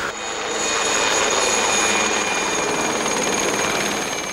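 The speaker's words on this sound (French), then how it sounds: "les nuisances sonores engendrées par l'hélicoptère" Helicopter spraying treatment over vineyards, its engine and rotor making a loud, steady broadband roar that swells slightly and holds throughout with no voices.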